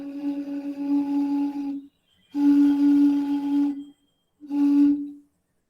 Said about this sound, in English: I will blow into this bottle.